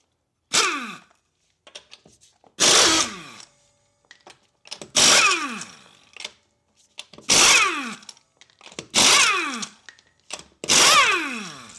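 McGraw 1/2-inch composite air impact wrench loosening lug nuts torqued to 80 foot-pounds, heard as six loud hammering bursts of about a second each, separated by short pauses with faint clicks and air hiss.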